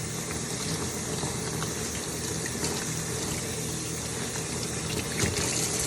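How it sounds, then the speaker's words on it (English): Steady, loud rush of tap water running continuously into a sink while goggles are scrubbed with soap, with no talking over the flow. "So I'm going to get my goggles wet here, grab a little soap, scrub them up"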